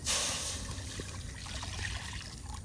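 Water trickles softly into a frying pan before fish eggs are boiled in it, a faint, brief pour close by in a quiet kitchen.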